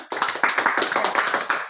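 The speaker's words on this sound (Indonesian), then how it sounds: "tepuk tangan dulu" A group of people clap their hands together in a dense, steady round of applause at close range, lasting under two seconds.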